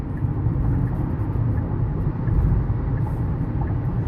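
Cabin rumble of a Kia Optima driving in traffic, a steady low road and engine drone that stays even and close throughout.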